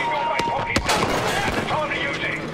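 Battlefield V North Africa battle sounds: continuous dense gunfire and explosion bursts, loud and close, with a sharp crack near the start, in a busy mix of game audio.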